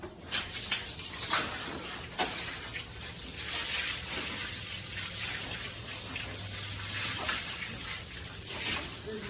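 A hose sprays water to wash down a surface in a horse arena, a steady hissing gush that runs continuously and swells with nearby splashing.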